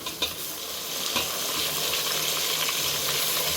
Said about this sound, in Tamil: இப்போ நம்ம இதோட கட் பண்ணி வச்ச தக்காளியையும் பச்சை மிளகாவையும் சேர்க்க போகிறோம்